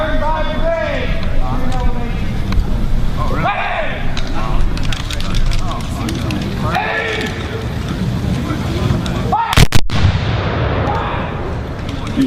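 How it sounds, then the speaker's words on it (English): During talk over outdoor background noise at a reenactment, a brigade fires a musket volley that lands as one sharp, loud crack near the end. "they're just putting the firing cap on the musket itself to make sure that all the weapons are clear. Firing by brigade!"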